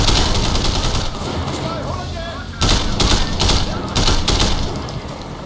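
Bursts of rapid gunfire in a Sleeping Dogs shootout during a car chase, loud volleys repeating over engine and game noise, with voices talking underneath.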